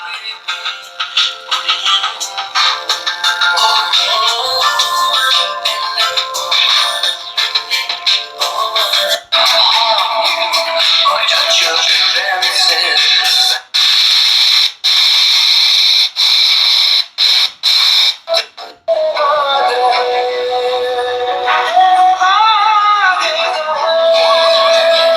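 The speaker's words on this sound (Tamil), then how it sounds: "ஃபுல் வால்யூம் இதுதான் ஒயர்லெஸ் எஃப்எம்." Wireless FM radio on an HMD 110 keypad phone plays at full volume: loud, continuous music-like sound with brief dropouts, shifting to a different tune near the end, with no talking over it.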